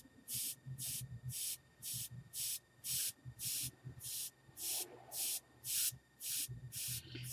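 A Copic airbrush air can sprays ink over a stencil on a gesso journal page in a rapid series of short, regular hissing puffs, about a dozen in quick rhythm, faint and close, with no voices.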